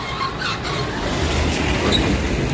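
A train rumbles with a broad hiss and rail noise at the Lower Parel Western Railway workshop, a steady moderately loud wash with faint squeals and clatter, no voices.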